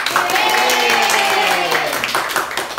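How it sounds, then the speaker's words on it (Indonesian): Audience applauding at the end of a micro-teaching session in a classroom, a steady wash of clapping from a group that runs under a speaking voice throughout. "Kita kasih tepuk tangan luar biasa untuk semua."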